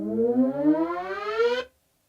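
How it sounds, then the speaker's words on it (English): A synth riser sweeping steadily upward in pitch with a buzzy, siren-like tone, then abruptly cut off at its tail by a pitch envelope, leaving sudden silence. "You could go like this, and it would just kill the tail of this rise."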